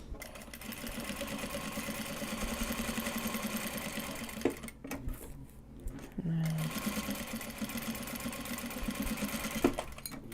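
A sewing machine stitches Japanese fabric for card holders, whirring steadily and quietly in short runs with a brief pause in the middle, while a person talks over it.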